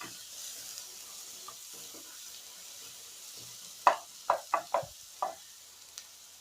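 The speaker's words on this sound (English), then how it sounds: "Once the oil is hot, I've added the onions and frying it." Onions frying in hot oil in a pan, a soft continuous sizzle with several sharp clattering stirring knocks in a quick cluster midway.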